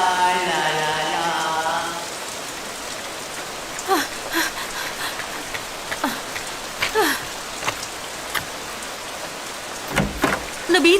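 Rain falls steadily outside a house in a cartoon scene, a continuous patter broken by scattered sharper drips. A voice hums a short melody at the start before the rain carries on alone.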